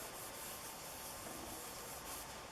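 Something rubs gently and continuously over a transfer laid on bumpy plywood, a soft, steady scratchy friction that stays faint and close throughout.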